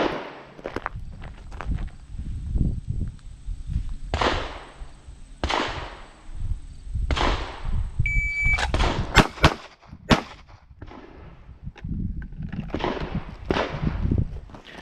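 Handgun shots ring out at a police firearms qualification range, sharp cracks fired in quick groups of two or three with pauses between strings, alongside footsteps and handling noise.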